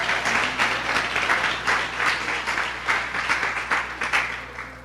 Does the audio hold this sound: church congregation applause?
yes